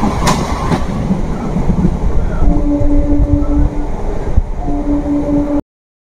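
The Kasimbazar–Azimganj MEMU train runs along the line, a loud steady rumble of rolling stock heard from inside with faint rhythmic clatter and a thin tonal whine.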